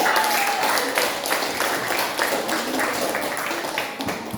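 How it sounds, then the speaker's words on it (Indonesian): Classroom audience applauding after a group presentation, an even roomy patter of clapping hands at moderate level, with some voices mingled beneath it. "Kita tepuk tangan untuk itu."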